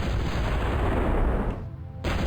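Twin cannons on a heavy tank in Factorio fire in Gauss mode, a dense booming barrage of artillery-like blasts rolling continuously before cutting out briefly near the end and resuming.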